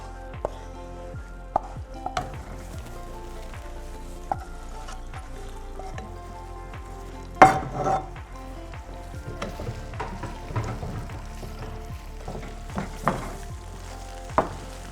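Steady frying sizzle in a pan, with occasional stirring clatter and a louder burst of hissing partway through as paneer goes into a gravy; no talking.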